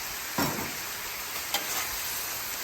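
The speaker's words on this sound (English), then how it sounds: "Come back up, stir it again, dissolve that cornstarch." Pepper steak sauce thickened with cornstarch sizzles steadily on a flat griddle as it is stirred, a constant close frying hiss broken by a couple of brief scraping stirs.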